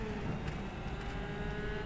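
A Formula Ford race car in rFactor 2 pulls away from the start line at Winton, its engine a steady, fairly quiet drone with a constant hum through the whole stretch.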